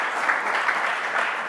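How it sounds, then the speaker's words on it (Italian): An audience claps in a lecture hall to welcome a medical and surgical professor from the University of Milano Bicocca, a steady wash of many hands, even and moderately loud throughout, with no voices. "accogliamo con un applauso"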